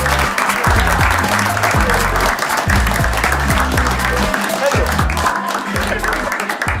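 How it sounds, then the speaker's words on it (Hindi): Audience applause welcoming a guest onto a comedy show stage, dense continuous clapping from a crowd, loud and sustained throughout with some voices mixed in. "Please start clapping and welcome on stage Mr."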